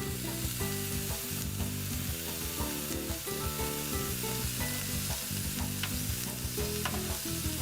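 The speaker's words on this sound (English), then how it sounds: "And it's time to flip my fish." Fish frying in a pan gives a steady, dense sizzle that crackles continuously at close range, with faint clinks of a utensil underneath.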